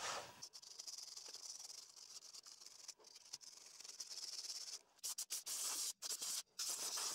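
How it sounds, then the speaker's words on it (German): A wire brush scrubbing a car gearbox, an Opel Tigra B F17 transmission, then a blast of compressed air: dense close rasping strokes giving way to loud hissing bursts with brief gaps near the end, no talking. "jetzt mache ich hier mit der Drahtbürste grob das Ganze sauber, mit Druckluft kurz abblasen"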